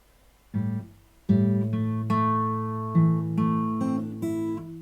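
Fingerstyle acoustic guitar plays two measures of a song from Final Fantasy X, a slow melody over plucked chords with notes ringing together, close and clear, no talk.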